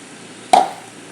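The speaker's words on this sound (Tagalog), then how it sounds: "isang basong tubig." A glass of water is poured into a cooking pot of vegetable stew, making a single short splash that fades quickly in an otherwise quiet kitchen.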